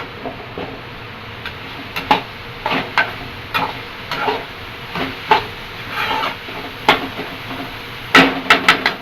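Prawn curry with tomatoes simmering vigorously in a pot beside a pond, giving a steady bubbling sizzle with repeated sharp stirring clanks spaced through the clip.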